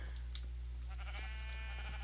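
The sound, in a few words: sheep bleating in the video game Minecraft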